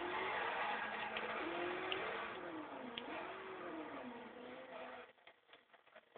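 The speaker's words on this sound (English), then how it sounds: "We're gonna have another drag race." Car engines in a Forza Horizon drag race, a sleeper against a Scion, revving loudly with rising and falling engine pitch sweeps for several seconds before dropping off into quieter clatter.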